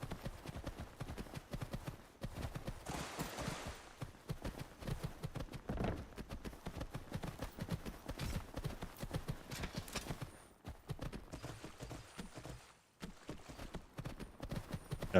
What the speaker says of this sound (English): Super cheap horse.